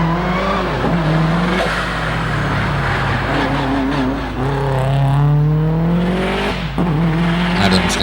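Blue Subaru WRX rally car accelerating hard up a hillclimb course, the engine loud and close, its pitch rising and falling through repeated gear changes, with tire noise over a steady roar.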